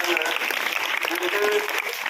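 Audience clapping for a literary award winner at a Hindi Diwas gathering, steady and fairly dense throughout the short stretch, heard at moderate level with a slightly distant, roomy quality.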